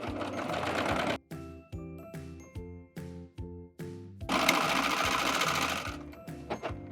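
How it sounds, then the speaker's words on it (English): A serger overlocking sweatshirt seams runs in short bursts of rapid mechanical chattering, stopping and restarting several times before one longer continuous run, close and clear. "So I'm gonna be serging, but you can use the overcast stitch on your regular sewing machine as well."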